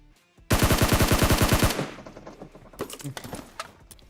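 Automatic gunfire in the mobile game PUBG Mobile: one loud, rapid burst lasting about a second, then scattered fainter shots and game sounds trailing off.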